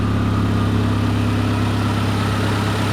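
A 1995 Honda Civic engine, freshly back together after a head gasket replacement, runs at a smooth, even idle, a steady low hum with fine rhythmic pulsing, close and continuous with no talk.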